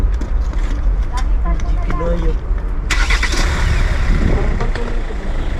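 A car engine starts on a family trip in Seoul, South Korea, a low rumbling roar that continues steadily beneath people talking nearby.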